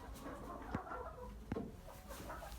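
Golden and silver Brakel hens in a coop on a snowy farm give two short, soft clucks over a quiet, low background hum.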